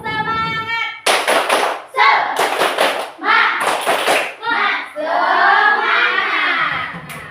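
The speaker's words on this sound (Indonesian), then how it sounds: "Tepuk semangat. Tepuk semangat." Several bursts of loud, rhythmic hand clapping by a classroom group, alternating with a voice speaking and children chanting along.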